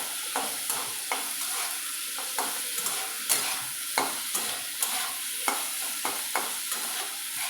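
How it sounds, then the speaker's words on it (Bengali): Salted potato pieces sizzle in a hot pan for vegetarian ghugni while a spoon stirs them in regular scraping strokes about twice a second, close and clear with no talk. "দিয়ে নাড়াচাড়া করে আলুটা ভাজবো, লাল লাল হবে।"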